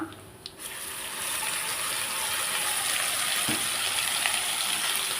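Wet tomato chutney hits hot tempering oil with a loud, steady sizzle and crackle that spreads and holds at a constant level after a brief quieter start.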